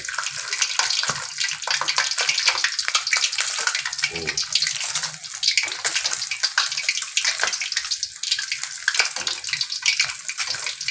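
Hot oil poured over crispy Thai pork belly makes a steady, loud rushing hiss and crackle that runs without pause for about eleven seconds, with no voices.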